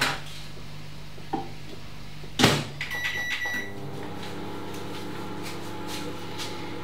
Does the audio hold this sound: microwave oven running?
yes